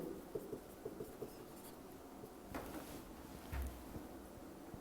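Pen scratching across paper while a physics question is written out, in short strokes and taps with brief pauses between, close and fairly quiet, with no talking.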